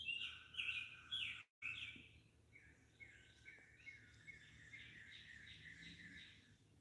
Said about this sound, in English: I'm gonna shut up and let you guys listen to some birds